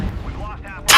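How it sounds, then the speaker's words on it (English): An artillery strike slams down in MechWarrior Online: a loud, sudden explosive burst at the very end, following a stretch of rumbling battlefield noise. "I artillery striked myself"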